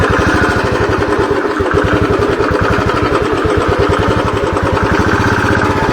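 Royal Enfield Bullet motorcycle thumping along an off-road trail, its engine beating loud and close in a steady rapid pulse throughout, with no voices.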